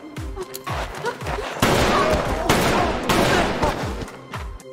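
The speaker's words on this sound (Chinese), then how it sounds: "枪声带来的压迫感" Rapid volleys of gunfire in a Squid Game-style film: sharp close shots fire in quick succession, with denser bursts in the middle, loud and unbroken by talk.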